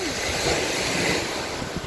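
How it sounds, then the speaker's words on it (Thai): Strong wind blows across the sea at a beach with waves breaking, a continuous loud rush with wind buffeting the microphone, no voices. "ลมไม่ค่อยดีตอนนี้ลมเริ่มแรงแล้วค่ะ"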